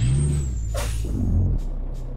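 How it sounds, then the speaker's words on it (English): A sharp burst of air hiss from Kenworth W900B truck air brakes in Euro Truck Simulator 2, over a steady low engine rumble. "air brakes, the engine sounds really good."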